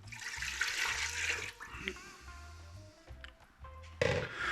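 Half a litre of water poured into a vinegar and lemon cleaning mix, a rushing splashy pour for about a second and a half that gives way to quieter clinks and faint movement.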